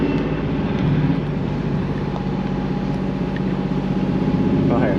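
A tuned 500 hp Nissan S15 engine gives off a loud, steady, rumbling drone that holds for several seconds, with people talking over it.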